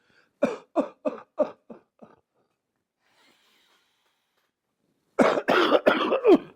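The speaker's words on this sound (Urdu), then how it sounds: "آرٹیفیشل کف یعنی نقلی کھانسی کرنا شروع کر دینی ہے" Six short, deliberate artificial coughs in a quick, even series, then a pause and a cluster of louder rough coughs, close and clear.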